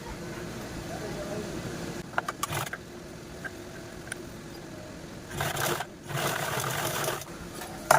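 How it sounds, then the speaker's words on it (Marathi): A sewing machine stitches fabric for a blouse piece in several short bursts of fast whirring, close and fairly loud, with quiet gaps and handling noises between runs. "यावरती पण आपण स्टिच करून घेणार आहोत"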